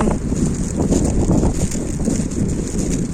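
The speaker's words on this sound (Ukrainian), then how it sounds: "Все рівно холодно, вітер дуже сильний." Strong wind buffets the microphone in a steady, loud roar with low rumbling gusts and no voices.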